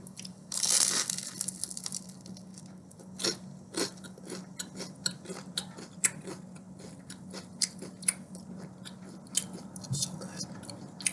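Crunchy bites into a piece of sourdough toast made from the end of the loaf, close and crisp, with a burst of crackling at the start followed by irregular sharp crunches and chewing over a quiet background hum.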